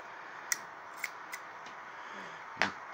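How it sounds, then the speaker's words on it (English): Scissors snip through guitar packaging: a few sharp, close cuts spaced about half a second apart, then one louder snip after a pause, over a steady background hiss. "maybe I am going to use scissors"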